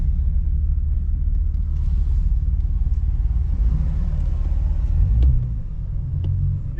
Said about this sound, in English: I'm driving up on some grass right now